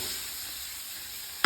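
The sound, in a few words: lardons, Brussels sprouts and onions sizzling in a pan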